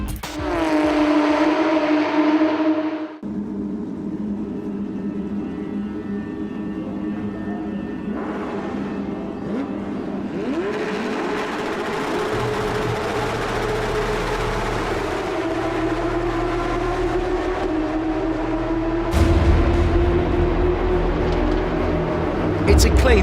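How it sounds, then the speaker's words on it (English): Porsche GT3 Cup race cars roar through the first corner of a Middle East circuit, engines droning and shifting as the pack passes, with a commentator talking over the sound. "It's a clean run through the first corner with all drivers getting through."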